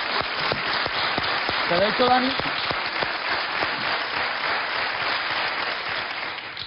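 An audience applauds a cook in a steady, dense round of clapping, while a voice talks over it.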